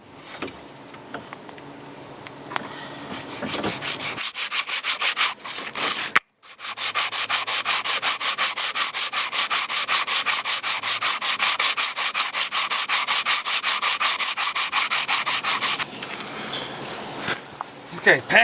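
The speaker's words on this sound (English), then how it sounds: "Okay, pads are sanded," Brake pads being sanded by hand for a Ford Taurus rotor replacement, a loud steady rasping scrub that runs continuously for several seconds after a few scattered scrapes and a brief pause.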